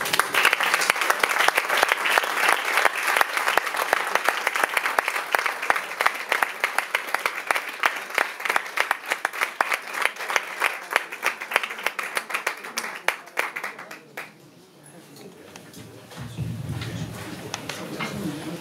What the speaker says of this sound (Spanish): me gustaría que se lo dieran un fuerte aplauso para el tenor Carmelo Ruiz